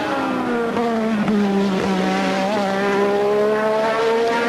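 Ayrton Senna's Formula One car on a qualifying lap at the 1986 British Grand Prix, its high-revving engine screaming loud and close, pitch climbing through gears with brief dips at the shifts.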